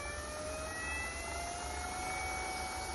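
A RIKON 70-220VSR wood turning lathe runs on its stand with a steady motor drone and a whine that rises in pitch as the spindle speed is adjusted. It sounds fairly close, with no talking.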